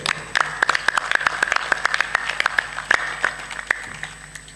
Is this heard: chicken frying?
no